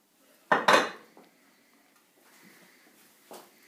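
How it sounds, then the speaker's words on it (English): Bowl with chocolate, cuajada, nuts and milk being mixed: two sharp clinks of a utensil against the bowl, then softer scraping and a faint knock, close and quiet. "Now we have to mix the chocolate, an envelope of real cuajada, and 1/2 liter of nut and milk."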